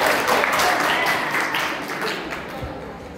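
A school audience at Golden Kids English High School in Amravati breaks into applause, a dense roomful of clapping that stays steady and then slowly thins out over about three seconds.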